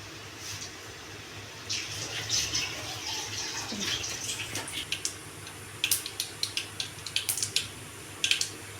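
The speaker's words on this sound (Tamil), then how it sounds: "கடுகு நல்லா பொரிஞ்சிச்சுங்க." Mustard seeds spluttering in hot oil in a pan, a steady hissing sizzle with scattered sharp pops that turn more frequent toward the end, close by, with no voices.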